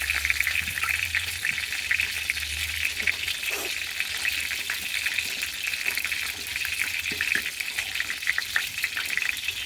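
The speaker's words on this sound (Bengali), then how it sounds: "বেগুনটা ভাজবো আর তরকারিটা হয়ে গেলে হয়ে যাবে" Brinjal (eggplant) frying in a pan gives a steady close sizzle and crackle throughout, with small clinks and stirring noises and no talk.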